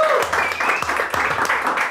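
Audience applause greets a comedian and impressionist on a comedy talk show, a dense wash of clapping that runs steadily throughout, with some vocal sounds mixed into the crowd noise.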